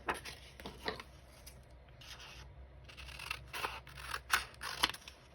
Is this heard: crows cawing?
no